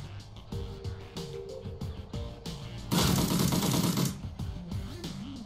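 Automatic-fire gunshots from a mercenary's weapon in the turn-based game Shadowrun Returns: a dense crackling burst of about a second stands out amid quieter rhythmic game sounds.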